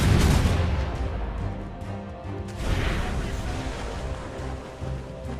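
Ship cannons firing in a naval battle in Assassin's Creed Rogue, a dense, rumbling barrage under crashing waves, with shouted crew voices over the din.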